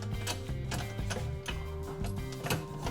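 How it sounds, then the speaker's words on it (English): A metal axle slides through a dirt bike wheel during assembly of an SX500 Dirt Rocket, giving steady close mechanical clicking and ratcheting with repeated metallic ticks and no talking. "Now slide the axle through the wheel."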